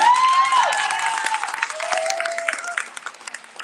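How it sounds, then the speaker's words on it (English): Applause at a village hall monthly meeting, a loud burst of clapping from a small crowd that gradually thins into scattered claps, with voices and a faint whistle or cheer mixed in. "It really should have been a better clap"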